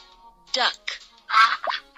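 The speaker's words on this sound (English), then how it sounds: "Duck." Duck quacks in a children's animal puzzle game: a few short, bright, raspy bursts spaced apart over about two seconds, fairly close and clear.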